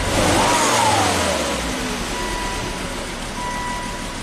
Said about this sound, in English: We'll rev it up.